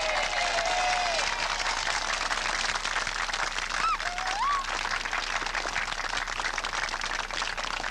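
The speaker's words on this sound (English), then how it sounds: "I ask you to join me in applauding Ronald Reagan." Large audience at a 1983 political speech breaking into sustained applause, a dense, even roar of many hands that holds steady throughout, with a few faint whistles or calls rising briefly above it.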